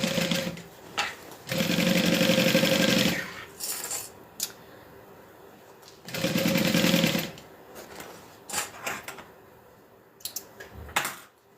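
A sewing machine runs slowly along a backpack seam where the interior and exterior layers separate, in two sustained stitching runs with short quiet gaps and scattered light clicks and handling knocks in between.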